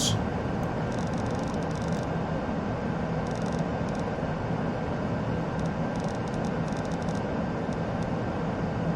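Embraer E175 jet engines in a flight simulator game, a steady broadband roar accelerating and climbing, loud and continuous throughout, with faint intermittent high electronic chirps over it and no talking.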